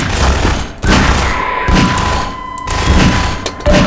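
A newly picked-up gun firing in the video game Half-Life 2, loud close blasts in quick repeated bursts with brief gaps between volleys and no talking.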